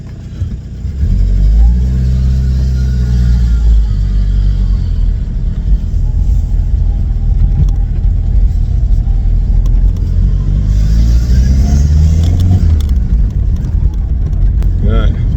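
A VW B3 Passat with a PD150 engine on a test drive, its engine droning and rumbling loudly and steadily from inside the car. Its pitch rises and falls with the gear changes.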